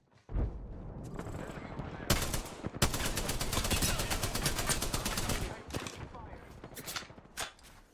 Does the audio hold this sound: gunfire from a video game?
yes